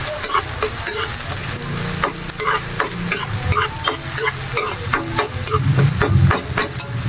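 Onions and ground meat sizzle loudly in a pan for eggplant omelette filling, with continuous frying crackle and frequent close scraping strokes of a spatula throughout.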